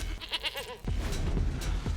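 Goat tokens bleating in the Magic: The Gathering Arena digital card game, a few quavering game-style bleats in quick succession followed by denser clattering effects and background music.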